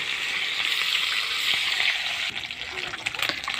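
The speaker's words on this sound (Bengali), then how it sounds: "আজকে পুঁটি মাছ ভাজা হচ্ছে কড়াইয়ের মধ্যে" Loud, continuous sizzling of small puti fish frying in hot oil in a wok, with a few scraping stirs and crackles toward the end; no voices.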